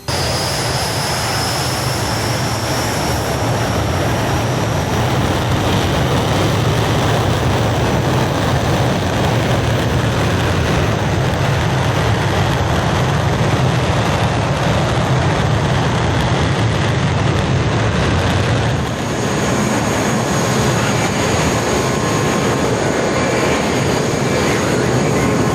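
Steady, loud jet roar of a BAE Hawk taking off in Microsoft Flight Simulator (VR). It runs unbroken from start to finish with no talking over it.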